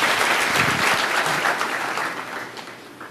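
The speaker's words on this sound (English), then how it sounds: "We couldn't hear here because of the applause for that" Loud, dense audience applause fills a conference hall, a steady wash of clapping that tapers slightly toward the end with no talk over it.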